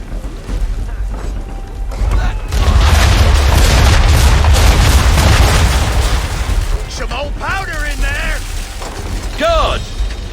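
Naval cannons fire from a ship in Assassin's Creed III, a rolling run of deep booms and blasts that swells loudly for several seconds, then fades into creaking mechanisms and scattered cries.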